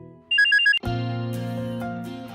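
Incoming-call telephone ringtone: a brief beeping electronic tone followed by a bright sustained melodic ring, loud and close with no talk.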